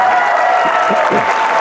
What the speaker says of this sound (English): Clap if you got spanked growing up.